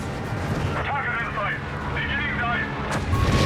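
A dive bomber strike lands in Company of Heroes 3 amid battle noise: a rumbling blast and whining aircraft tones, with a commentator talking over it.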